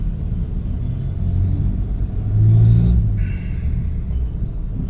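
Heavy city road traffic on the Bonifacio–C5 route in Taguig, heard from inside a car as a steady low rumble of engines with a passing vehicle swelling louder midway.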